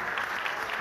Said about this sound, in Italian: Faccio un applauso a Mario Barbuto, presidente dell'Unione Italiana Ciechi.